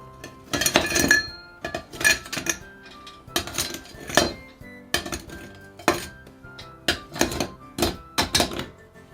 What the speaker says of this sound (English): get your highball glass and fill it with ice